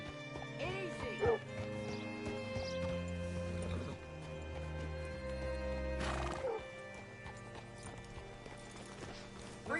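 A horse in Red Dead Redemption 2 whinnies twice amid clopping hooves, with steady background music and a voice nearby.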